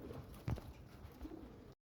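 Low cooing from a sapchila pigeon and others, with one fuller coo early on, over a steady background hum, ending in abrupt silence.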